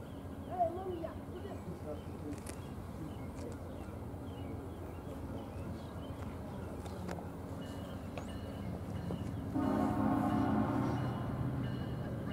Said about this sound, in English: a horn just flared off over there that you probably heard